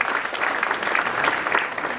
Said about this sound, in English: give the big round of applause to the teacher and the student also